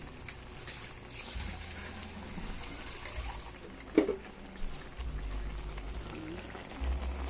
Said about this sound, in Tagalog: Niloloto kong labong.